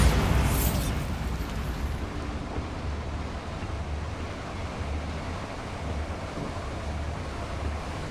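A Bombarda blasting spell from Hogwarts Legacy goes off with a loud burst at the start, then a broad rumbling roar fades into a steady, dense wash that lingers to the end.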